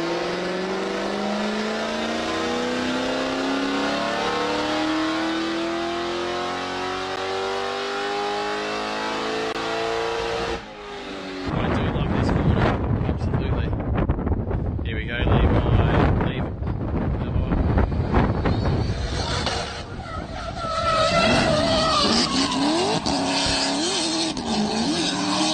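Toyota 1UZ V8 fitted with custom equal-length headers, idling with a smooth harmonic drone, then revved hard in loud repeated bursts with wind buffeting the microphone and no talking.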